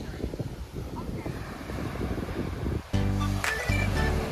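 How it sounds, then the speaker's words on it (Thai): Cool sea wind at the Phang Nga coast in Thailand buffeting the microphone in gusty rumbling bursts, with surf-like noise and a brief voice heard over it. "ลมเย็นมากเลย"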